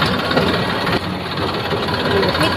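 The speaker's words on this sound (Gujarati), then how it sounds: "અમે હવે ટ્રેક્ટર તૈયાર કરી દીધું છે" A tractor engine running, a loud, steady low rumble with a continuous mechanical drone and slight knocking texture, close by and unbroken.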